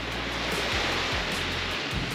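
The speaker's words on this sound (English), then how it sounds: "I love the sound of the waves lapping on the shore." Waves lapping on a beach shore, a steady broadband wash with soft periodic swells, fairly quiet and continuous with no voices.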